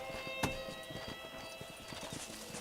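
Horse hooves clip-clop steadily at a slow walking pace in the Red Dead Redemption video game, a soft continuous trotting rhythm over a constant hum of in-game background ambience.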